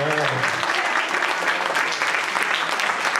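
A church congregation claps in a dense, steady burst of applause that fills the room at close range for a few seconds, with no voices rising above it.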